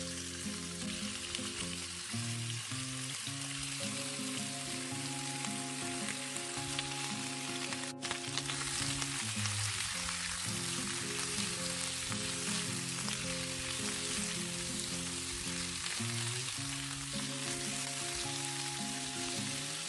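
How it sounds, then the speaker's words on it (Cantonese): Beef stir-fried in a hot pan for tomato braised beef, a loud steady sizzle and crackle of frying throughout with occasional stirring scrapes, close up and uninterrupted by any talk. "我哋爆一爆啲牛肉"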